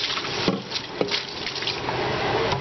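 Water splashes and trickles steadily at a kitchen sink as soaked bean noodles are drained, with a few louder splashes near the start.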